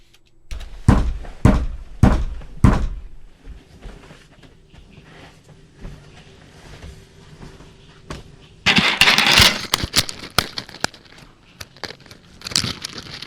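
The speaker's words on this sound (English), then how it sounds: "someone is actually banging on the door" Heavy banging on a door inside a house that seems haunted: four loud, booming thuds in quick succession, then quieter knocks and a later flurry of rattling, crashing hits.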